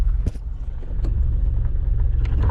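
A car slows to a halt during a driving lesson as the clutch is pressed fully and the brake applied lightly, giving a low rolling rumble with a few faint clicks and thumps over a couple of seconds.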